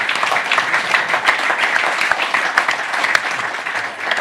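A crowd gives Dan Green and his team a loud, continuous round of applause, dense clapping that holds steady and tapers slightly at the end.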